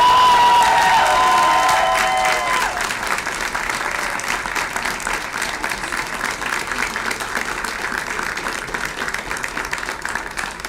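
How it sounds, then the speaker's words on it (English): Audience at a Columbia University journalism school graduation applauds the graduates with sustained, dense clapping and some cheering; a lingering tone at the start fades as the applause carries on steadily for about ten seconds. "Can we have one last round of applause for our graduates?"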